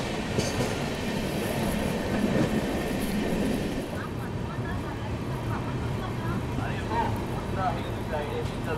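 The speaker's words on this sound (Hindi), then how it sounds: "यहाँ अपनी ट्रेन पहुँच चुकी है मनमाड़ जंक्शन," Pushpak Express pulling into Manmad Junction in India, a steady rumbling roll of carriages with faint squeals of slowing wheels, heard from aboard.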